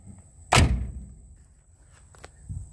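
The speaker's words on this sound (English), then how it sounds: "That door still shuts good." A 1965 Plymouth Satellite car door swings shut with a single solid thump up close, followed by quiet background rumble and a faint knock near the end.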